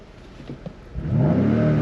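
A BMW M5 Competition with M2 mode engaged, the engine quiet at first, then revving up sharply into a loud, rising growl that holds for the final second.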